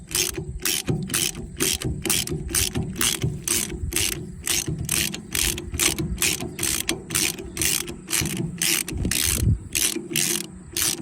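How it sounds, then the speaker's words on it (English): A hand ratchet wrench loosens a tie rod nut on a John Deere 4020 tractor, giving a fast, even run of clicking strokes that carries on for the whole stretch, close and clear with no talk. "I'm just going to get my wrench. Just going to go lefty loosey."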